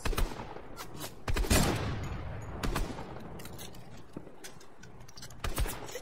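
Shots ring out in a Fortnite trios match, a mix of sharp single cracks and quick rapid bursts, loud near hits early, then sparser distant pops.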